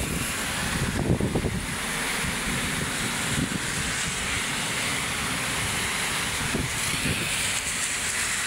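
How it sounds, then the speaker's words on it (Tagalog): Strong wind buffets the microphone along the shore of Manila Bay, a loud, roaring wash with gusty surges and rumble that persists without pause and no talking over it. "Malakas pa rin yung kanyang hangin."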